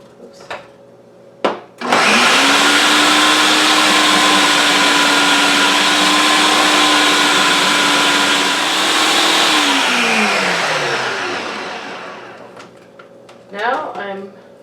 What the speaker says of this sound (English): I'm using the slicing attachment for the cabbage and the onions.